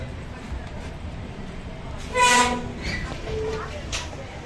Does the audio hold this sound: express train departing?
yes